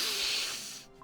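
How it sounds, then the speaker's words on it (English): A game character in Cookie Run: Kingdom sharply inhaling spice powder, one brief loud hissing intake of breath that fades out within a second. "He's breathing in the spice powder on purpose"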